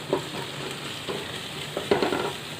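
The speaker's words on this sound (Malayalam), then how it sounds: "ഇതിലേക്ക് ഞാൻ ഇഞ്ചി വെള്ളുള്ളി പേസ്റ്റ് ഇട്ട് കൊടുക്കുകയാണ് കേട്ടോ, 1/2 ടീസ്പൂണ്. നന്നായിട്ടൊന്ന് ഇളക്കി കൊടുക്കാം," Ginger-garlic paste is stirred into sautéed onions in a hot pan, giving a steady sizzle with a few louder scraping stirs of the spoon, close and with no voices.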